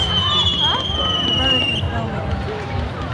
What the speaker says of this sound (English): Jen, I'm getting your 9 month fireworks.